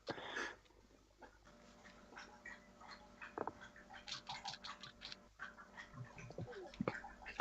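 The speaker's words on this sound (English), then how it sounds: "I can hear the dog drinking all the way over here." A dog drinking water nearby: a run of quick wet laps and small splashes with uneven rhythm, fairly faint, over a steady low electrical hum.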